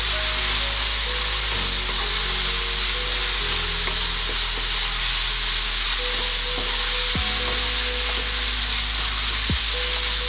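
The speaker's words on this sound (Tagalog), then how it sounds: "Haluin lang natin sandali." Flaked milkfish filling for relyenong bangus sizzles in a hot pan while being stirred, producing a loud, constant close frying hiss broken by a few scraping stirs of the utensil.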